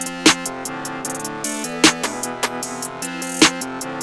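Hard trap beat from the verses of an FL Studio production, with sharp recurring hits over a dense, steady melodic layer and sustained tones, instrumental and without voices.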